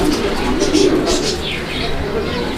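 Young pigeons at a pigeon market coo nearby, loud, soft throaty calls repeating several times over a few seconds, with a voice faintly underneath.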